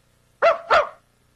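A man barks twice like a dog, two quick, close, loud woofs in a quiet room, imitating the animal with his voice.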